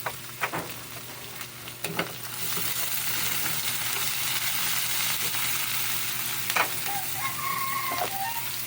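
Chopped onions fry in a pan of chicken estofado, a steady broadband sizzle running from about two seconds on, preceded by a few clanks and scrapes, close and fairly loud, with no talking.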